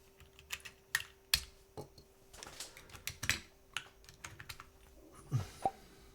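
Typing on a Snake R2 keyboard fitted with GMK keycaps: close, irregular bursts of clacky keystrokes, with a few louder thocks and short pauses between, quiet overall and without speech.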